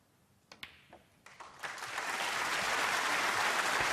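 Snooker crowd at the Ruhr Open final breaks into applause after a game-ball pot, starting with a few scattered claps that swell within two seconds into steady, loud, sustained clapping filling the hall.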